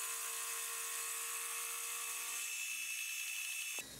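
A high-pitched whining milling machine cutting metal runs steadily, then cuts off abruptly near the end, leaving a quiet hum.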